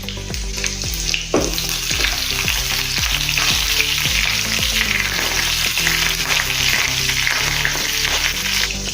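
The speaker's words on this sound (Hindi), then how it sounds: "तेल गरम हो गया है, जीरा डाल देंगे।" Loud, steady sizzling of cumin seeds and coarsely crushed garlic frying in hot oil for dal, close by, with occasional stirring scrapes throughout.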